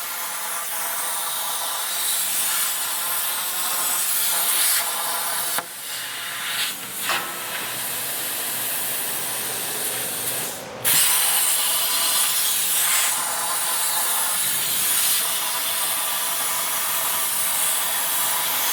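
A JD2 RC6 rotary cutter slices through square steel tubing, a steady loud grinding hiss with a rasping, rubbing edge that runs continuously, dipping briefly twice before resuming at full strength.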